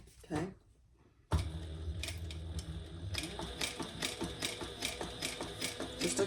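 A sewing machine starts abruptly and stitches across the bottom of a garment with a steady mechanical whir and rhythmic ticking, up close, after a brief quiet pause.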